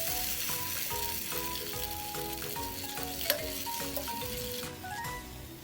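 Beef sizzling and frying with ginger in a stir-fry pan for beef and broccoli, a steady close crackle with occasional stirring clinks and scrapes, no voices.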